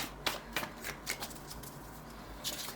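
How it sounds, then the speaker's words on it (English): A tarot deck being shuffled, with a run of soft riffling card bursts at an uneven rhythm. Each burst is quiet and close, and there is no talking. "I'm going to shuffle the tarot deck"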